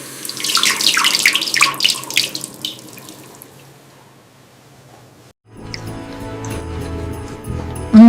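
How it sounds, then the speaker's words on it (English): Water from a bathroom sink tap runs steadily, splashing and gurgling as someone washes their face, then stops briefly before a duller run of water resumes. "I am washing my face."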